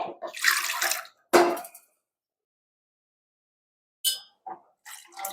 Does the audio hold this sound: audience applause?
no